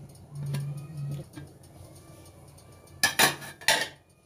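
A lid is set onto a pot of radish dal cooking on the stove. Faint cooking noise is followed near the end by a few sharp metallic clanks.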